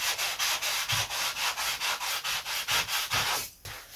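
A long sanding block works the wooden leading edge of a vintage aerobatic glider, making a brisk, regular back-and-forth rasp of about a dozen strokes before stopping near the end.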